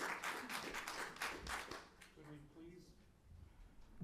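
Audience clapping at a city council meeting, a burst of scattered applause in a hall that fades out within a couple of seconds, with a voice speaking over and after it.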